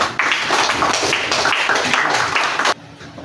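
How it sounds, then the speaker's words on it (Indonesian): Students applaud in a classroom, a dense burst of many hands clapping together, loud and close, lasting under three seconds and then cutting off into quiet room tone. "Ya, tepuk tangan buat Pandu."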